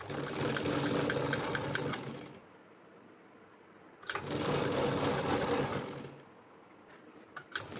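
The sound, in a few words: sewing machine stitching kurti panels together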